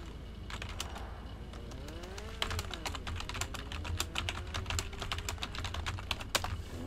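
Fast clattering keystrokes on a computer keyboard during a PC racing game session, a steady irregular stream of clicks heard close and fairly quiet, with faint game sounds underneath.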